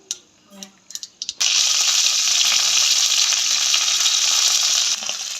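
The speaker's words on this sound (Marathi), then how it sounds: "मोहरी तडतडली की कढीपत्ता टाका" A few sharp crackles of mustard seeds in hot oil with asafoetida, then a sudden loud, dense hiss and spatter as curry leaves hit the oil, sustained close up for several seconds.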